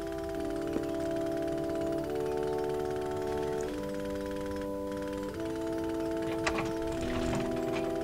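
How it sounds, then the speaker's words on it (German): A jackhammer hammers in a steady, rapid rattle at a construction site outside in the video game Memento Mori, muffled and continuous beneath sustained tonal background music, with a couple of sharp knocks. "Wenn der Presslufthammer draußen ordentlich Krach macht, hört hier drinnen keiner ein paar Schläge gegen die Tür."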